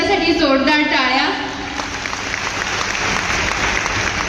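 A crowd at a Nashik company event applauds the visiting MI company management, steady clapping that starts under a voice finishing speaking and then continues alone.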